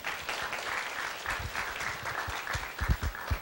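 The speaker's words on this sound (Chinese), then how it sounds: "请给予热烈掌声。" An audience at a university working-holiday and consular seminar claps together, producing a moderate, steady patter of applause that swells slightly toward the end, heard from a little distance in a hall.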